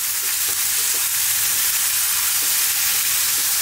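Black-eyed peas and cauliflower dry frying in a pan over above-medium heat, with a constant loud hiss and sizzle and a few faint stirring knocks underneath, close and with no talking.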